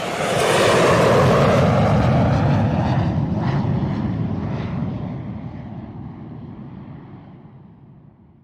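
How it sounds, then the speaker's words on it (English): Propeller plane flying past, a loud, broad roar that swells early, then slowly fades into the distance over several seconds. "Plane."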